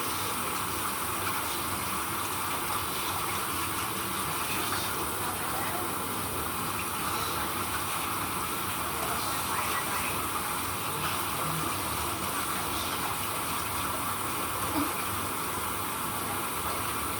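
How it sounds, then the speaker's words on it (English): Water runs in a constant, even gush as something is washed under it, steady throughout at moderate loudness with no clear voices. "To wash in water."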